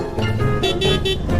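Car horns sound in congested traffic, several pulsing honks over a continuous roadway rumble, fairly close and loud.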